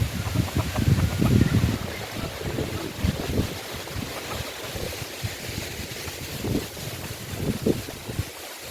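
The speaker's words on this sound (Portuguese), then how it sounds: "Mas é uns ventão louco aí." Strong gusty wind roars through a vegetable garden, buffeting the microphone in heavy, rumbling bursts that ease off and surge again throughout.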